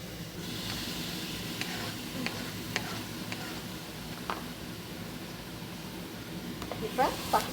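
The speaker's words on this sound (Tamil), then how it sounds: "அதை போட்டு நல்லா கிளறி விடணும்." Cumin, garlic and curry leaves sizzle in a pan while a spoon stirs them with light ticking scrapes, close and fairly quiet, with a few louder clinks near the end.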